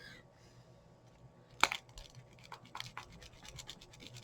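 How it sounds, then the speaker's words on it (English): A fabric marker line rubbed away on cloth, giving a soft, close scratching and rubbing with one sharper scrape near the middle, followed by a few lighter scuffs. "And then you just rub it and see how I've gotten rid of that line"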